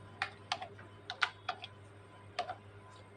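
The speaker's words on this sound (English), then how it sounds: "Then I'll type this part." Keys on a computer keyboard are tapped in short, irregular clusters of crisp clicks, close and fairly quiet, with no one speaking.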